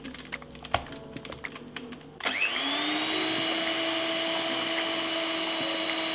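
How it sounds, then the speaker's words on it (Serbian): An electric hand mixer starts up and runs steadily, beating a cake batter as red gel food colouring is mixed in; a near, constant motor whine follows a burst of clattering and tapping. "I na kraju ću sve ovako sa mikserom lagano umutiti."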